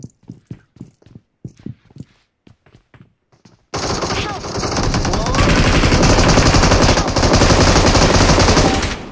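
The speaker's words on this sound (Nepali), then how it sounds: "गोली आयो मलाई" Video game gunfire: a string of sharp, separate shots rings out early, then a dense, loud barrage of rapid automatic fire and clatter takes over and lasts to the end.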